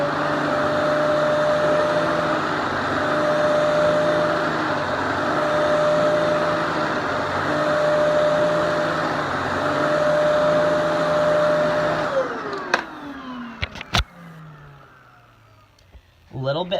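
A Kenmore Elite vacuum cleaner drones loud and steady for about twelve seconds, then winds down with a falling whine, followed by a few sharp clunks near the end.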